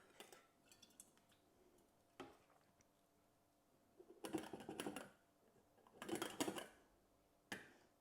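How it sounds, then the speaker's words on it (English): Tomato sauce is ladled into a colander while pressure canning at home: faint clinks and scrapes of a metal ladle against the colander come in short bursts between quiet pauses. "we're now going to ladle our sauce in there"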